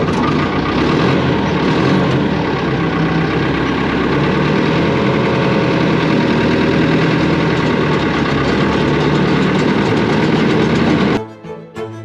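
A Someca tractor engine runs steadily and loudly throughout a ride, a constant close mechanical drone that cuts off abruptly near the end.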